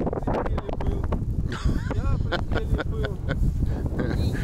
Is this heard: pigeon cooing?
no